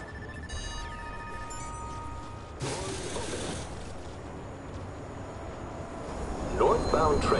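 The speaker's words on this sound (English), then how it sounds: "Southbound train, arriving shortly." Southbound train pulling into a station, a rumbling rail roar with high tonal squeals and a sudden louder surge midway, while a voice speaks over it near the end.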